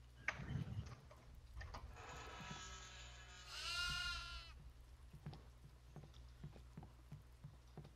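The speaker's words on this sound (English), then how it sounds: "Oh, goat here. There's gonna be goats everywhere." A goat in the video game Devour, on the farmhouse map, bleats loudly in a wavering, drawn-out cry, preceded by other bleating and clattering hooves, with light tapping footsteps afterward.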